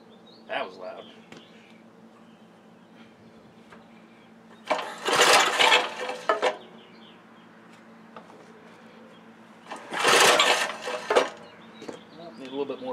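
A Merry Tiller two-stroke engine on premix fuel with choke applied sputters to life in two loud, rough bursts of a second or two each, separated by quieter stretches with a faint low hum.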